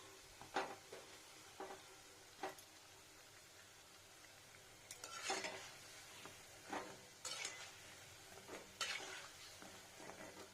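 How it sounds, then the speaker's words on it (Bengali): Gaja, a flour pastry, fries slowly in oil at low temperature: a soft, quiet sizzle punctuated by several sharp stirring scrapes and bubbling bursts at irregular intervals. "দেখুন কত সুন্দর ফ্রাই হচ্ছে স্লো আছে এটা টেম্পারেচার বিলো আর ভিতরটা ভালো ভাজা যাবে"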